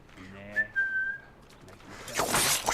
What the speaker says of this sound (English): The old whistle routine.